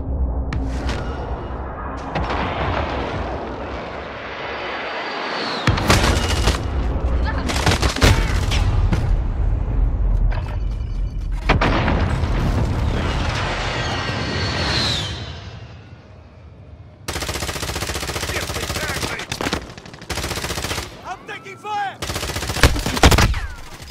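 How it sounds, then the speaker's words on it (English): Call of Duty Warzone gameplay with bursts of rapid gunfire and booming precision airstrike explosions, loud and close, broken by brief gaps and short radio-style voice callouts. "Friendly precision airstrike."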